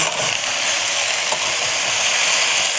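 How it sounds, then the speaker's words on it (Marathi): Vegetables stir-frying over a full gas flame in an iron wok for American chop suey give a loud, steady, broadband sizzle that fills the whole stretch, with faint scraping of the wok and no talking. "फुल गॅसवरती आपण अशा फ्राय केल्या भाज्या"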